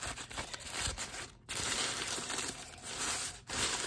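Brown grocery bag paper being crumpled by hand, a close, continuous crinkling and crushing with brief pauses between handfuls.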